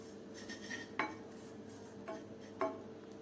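A spoon clinks and scrapes against a pan several times at an uneven pace while lemon juice is stirred into a spice filling for stuffed green chillies, close and fairly quiet over a faint hum.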